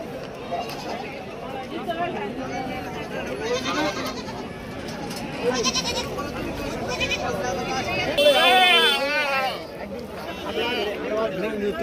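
Goats and sheep bleat repeatedly amid a busy outdoor goat and sheep market in Shirur, with one louder, wavering bleat standing out near the end over constant crowd chatter and nearby bargaining voices.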